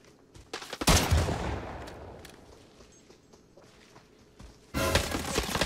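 Gunfire in the shooter video game Arena Breakout comes in two loud bursts: a rattling volley near the start, a fading tail, then a second burst near the end.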